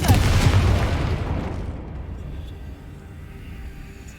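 Confringo blasting spell exploding in Hogwarts Legacy: one deep, booming blast hits at once, then rumbles and fades slowly over several seconds, alone with no talk.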